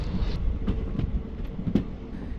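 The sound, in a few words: train running on tracks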